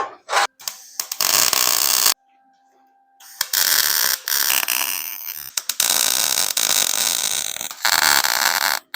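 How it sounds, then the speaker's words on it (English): Welding on parts of a 1.6-inch scale GP40 locomotive model makes loud, harsh buzzing bursts that start and stop abruptly, with brief quiet gaps between them. "Weld it up."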